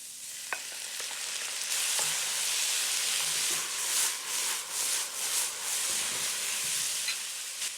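Beef sizzles and fries steadily in a hot pan while being stirred, a close, continuous hiss with scraping and rustling bursts of stirring throughout and no talk.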